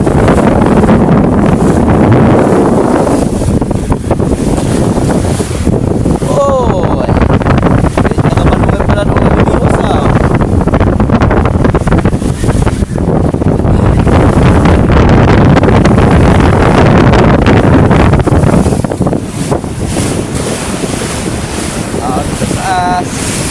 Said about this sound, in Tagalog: Talagang bakit kaya dito malakas ang hangin?